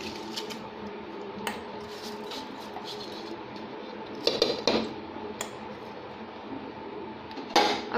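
Metal utensils clink and scrape against a pot of rice and boiling water for masala khichdi in a few sharp bursts over a steady low kitchen hum.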